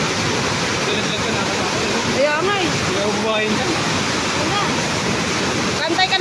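Rushing floodwater pours steadily through a creek in Sta. Rosa, Laguna, a continuous loud roar running under several people talking nearby.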